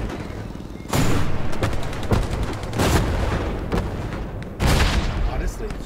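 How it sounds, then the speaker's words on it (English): A tank fires in the World War II shooter Hell Let Loose, several heavy booming blasts spaced a few seconds apart with rumbling tails and crackling gunfire in between. "Tank is firing."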